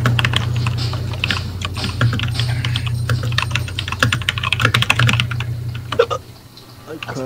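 Rapid, forceful typing on a computer keyboard during a Resident Evil Code Veronica PS2 gaming session, a dense clatter of close clicks over a steady low hum, with voices faintly mixed in.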